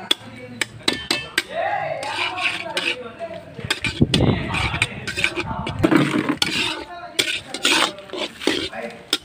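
Tomatoes and garam masala are sautéed in a pan for a chicken gravy, with repeated metal spatula clanks, scraping and stirring, close and irregular, under a speaking voice.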